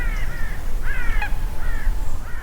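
Crows caw repeatedly in a steady series of harsh, raspy calls over a low rumble of outdoor background noise near a bird sanctuary in Spain, with no talking.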